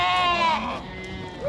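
Several sheep bleat at a livestock market, one clear wavering cry up close followed by fainter calls, with crowd murmur in the background.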